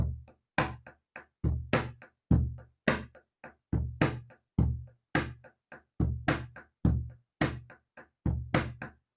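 A basic eight-beat hand-drum pattern played with palm, edge and fingertip strokes: deep booming hits alternate with sharper slaps in a steady looping groove, close and clear, with no talking.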